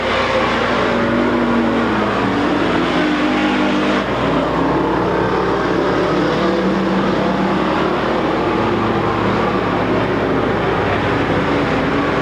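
Race cars roar continuously around the track at a weekly racing series with demolition derby in Watsonville, California. Engine noise drones loud and steady with a slight shift in pitch partway through.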